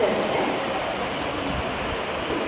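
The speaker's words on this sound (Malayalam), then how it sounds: "നല്ല രീതിക്ക് മഴ പെയ്യുന്നുണ്ട്" Heavy rain pours steadily at Madgaon Junction railway station in Goa, a dense, even hiss of drops drumming on surfaces that fills the whole moment.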